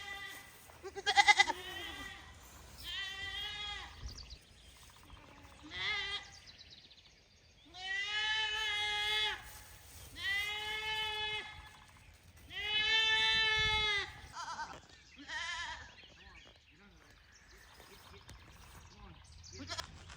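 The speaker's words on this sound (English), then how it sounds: "Moving the goats over to the Angus pen today." Several goats bleat in loud, wavering cries spaced a few seconds apart, close by on a farm, with someone speaking quietly between the calls.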